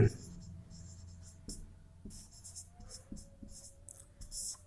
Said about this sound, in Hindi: उसको हम लिखते हैं